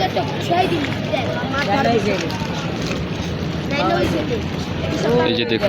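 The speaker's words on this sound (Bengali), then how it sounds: "ওই একটি টলার আসতেছে" A trawler boat on the river at Sadarghat launch terminal in Dhaka rumbles as a low, steady drone under wind noise, while someone talks over it throughout.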